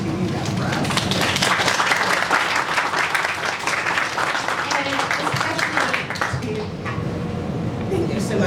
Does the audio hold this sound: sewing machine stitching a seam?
no